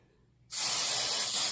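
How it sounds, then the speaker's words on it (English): Rave hairspray sprays from an aerosol can in one close, steady hiss that lasts about a second after a brief quiet start and then cuts off. "I want to take some of this Rave hairspray, and I'm just going to spray it"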